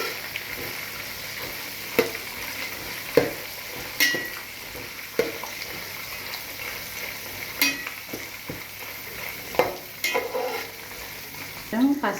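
Atukula (flattened rice) with coconut stirred and frying in a pan, a constant close sizzle broken by regular spoon scrapes and taps against the metal, with no talk.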